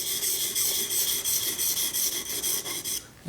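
A woodworking chisel sharpened on a sharpening stone, with steady back-and-forth rasping strokes, about a dozen in quick rhythm, close and clear with no voices.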